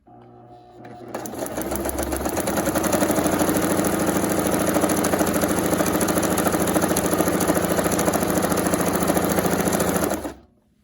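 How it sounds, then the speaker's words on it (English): A sewing machine runs steadily while stitching crepe paper trim, a loud, close, continuous mechanical whir that starts after a brief pause, holds at an even fast rate for about nine seconds and then stops abruptly. "So I'm just going to start sewing."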